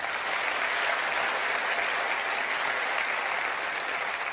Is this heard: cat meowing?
no